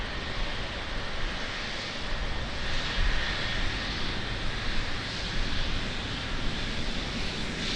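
At Auckland Airport, a Boeing 777 rolls along a high-speed taxiway, sending out a loud, continuous jet-engine rush and hiss that holds steady throughout, with no talking.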